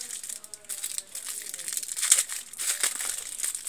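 Yu-Gi-Oh card booster box packaging being opened, crinkling and crumpling plastic and cardboard close up in a steady rustle, with brief louder crackles, under occasional faint voice.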